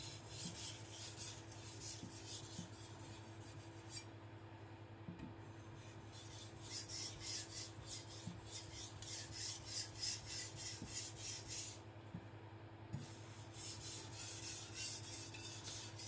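A Tojiro white steel (shirogami) nakiri knife is rubbed back and forth on a sharpening stone while being thinned, producing a steady gritty rasping with rhythmic strokes and a low background hum.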